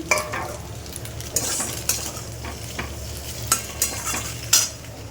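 Marinated chicken frying in a pan while being stirred, with a steady sizzle and repeated scraping strokes, close and moderately loud, no voices.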